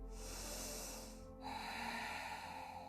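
Deep nasal breaths during a vinyasa flow yoga session: one long airy inhale, then a second breath with a different tone, close and intimate against quiet background, no speech.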